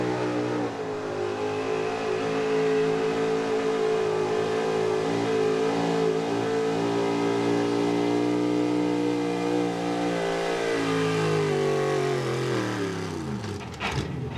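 A 1984 Chevy gas 4x4 pulling truck, the Coal Crusher, roars at high RPM through a loud, sustained engine run at a truck pull, holding steady power before the revs drop and sag away near the end.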